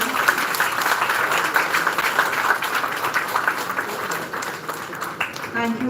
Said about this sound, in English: A big round of applause from the audience.